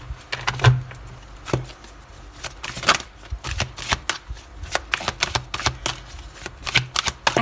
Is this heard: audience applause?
no